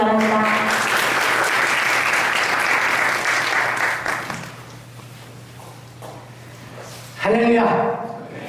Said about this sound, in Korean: 박수를 얻어주시기 바랍니다